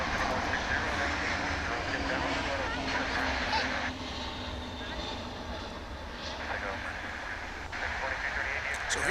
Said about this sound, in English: A380 arriving from London.